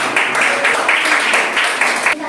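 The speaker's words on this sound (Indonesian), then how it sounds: "Oke, tepuk tangan dulu, tepuk tangan." A classroom of children clapping their hands together, a steady, close, busy patter of many small claps filling the whole stretch, with a brief dip near the end.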